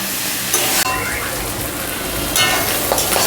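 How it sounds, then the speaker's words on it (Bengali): Potato, eggplant and onion fry together in oil with a moderate, continuous sizzle, broken by a few sharp clinks and scrapes of stirring near the pan. "আলু বেগুন পেঁয়াজ সব একসঙ্গে ভালো করে ভাজা হয়ে গেছে।"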